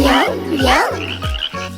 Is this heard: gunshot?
no